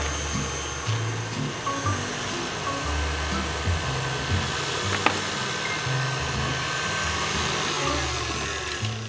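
An electric stand mixer with a paddle beating butter and cream cheese for cake frosting, a steady, close motor whir with a faint clatter, running on with no voices.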